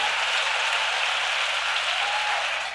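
Audience applause at a church congress: a steady, dense wash of clapping that holds evenly throughout, fairly close and full, with no voices heard over it.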